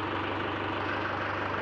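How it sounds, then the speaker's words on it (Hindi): A tractor engine idles throughout, a steady, loud, dense rumble with no pauses, close by. "अब करते हैं अपना ट्रैक्टर को स्टार्ट।"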